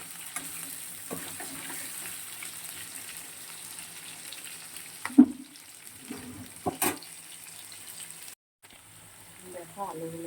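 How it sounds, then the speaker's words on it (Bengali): Potatoes fry in a pan with a faint, steady sizzle, broken by a few sharp clatters and a brief dropout near the end. "আলুগুলো দিয়ে দিচ্ছি। ভালো করে ভেজে নিয়ে"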